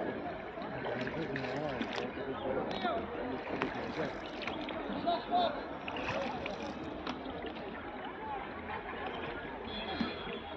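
A boat moves on the clear, shallow Dawki river in Meghalaya, with quiet water sloshing and gurgling against the hull while people talk over it.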